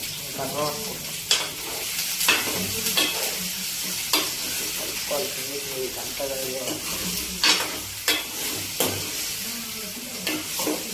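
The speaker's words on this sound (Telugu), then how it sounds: "ఇప్పుడు కలుపుకోవాలి" Steady sizzling of ivy gourd (dondakaya) curry frying in a pan, with repeated scraping strokes of a spoon stirring through it at an uneven rhythm, close up.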